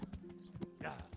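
Horse hooves clip-clop in a steady rhythm in Kingdom Come: Deliverance, a series of close, distinct knocks repeating at an even walking pace over a low, steady tone.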